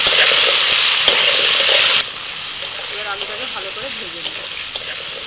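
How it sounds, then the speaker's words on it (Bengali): Potatoes with turmeric and salt sizzle in hot oil in a wok, a loud steady frying hiss at first that drops to a quieter crackle with occasional stirring scrapes, while a voice talks over it. "আলুটা কড়াইতে দিয়ে দিলাম হলুদ গুঁড়ো আর অল্প একটু লবণ এবার আলুটাকে ভালো করে ভেজে নেব"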